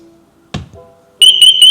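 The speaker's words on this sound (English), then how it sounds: "Any heavier impacts will trigger the full alarm." A Lamborghini Aventador's aftermarket security system sounds its full alarm: a short thump, then a loud, piercing electronic tone with a rapid warble, close by and with no talking.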